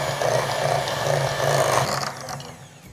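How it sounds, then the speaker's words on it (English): Electric mixer whirring through sweet potato pie filling, a steady close mechanical hum with a rhythmic pulsing churn that tapers near the end. "we're gonna go ahead and take a mixer, or if you have a food processor, you can use that"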